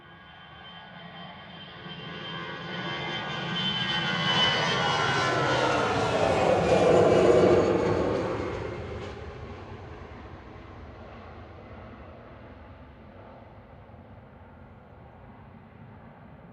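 An EasyJet jet airliner passes at Manchester Airport, its engine roar swelling to a broad peak near mid-clip, then easing into a fading distant rumble.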